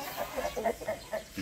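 A pure white Brahma hen in a small backyard gives a quick run of soft, close clucks over about a second and a half.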